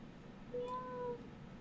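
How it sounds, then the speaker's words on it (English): A faint single cat meow, thin and brief, heard from a distance over a steady low background hum during an online tabletop game session. "Do I hear a cat?"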